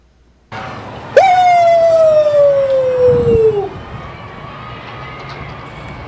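A loud, long, sustained shout that slides slowly downward in pitch, like a siren-like howl, rising sharply and fading after a couple of seconds.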